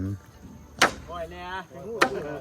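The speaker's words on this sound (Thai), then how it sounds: "ตอกวันนี้พี่น้องตอกแล้วก็มัด" Two sharp, loud strikes about a second apart as bamboo is hammered while building a bamboo bridge, with a person talking faintly in between.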